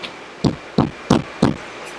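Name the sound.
knocking imitating a knock on the front door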